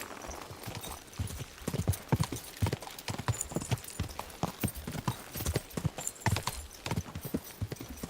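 Horse hooves clip-clop at a steady gallop in Kingdom Come, a rapid run of close, loud impacts that carries on without pause, with a faint whinny in places.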